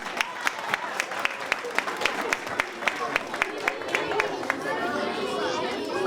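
Audience at a Martin Luther King Jr. ceremony clapping in a regular rhythmic pattern, sharp unison claps repeating steadily over crowd chatter, then fading into murmuring voices.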